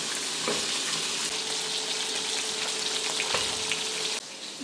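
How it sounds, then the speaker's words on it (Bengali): Tengra fish frying in oil in a home kitchen pan, a steady close hiss of sizzling oil running without pause, dropping slightly quieter near the end. "মাছগুলি ভাজা হয়ে গেছে,"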